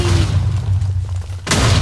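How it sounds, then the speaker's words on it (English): Fireworks show bursting in a video game, a deep rumbling boom sustained through the clip, then a sharp broadband burst near the end, loud and close, with no talking. "Oh my god, it's fireworks."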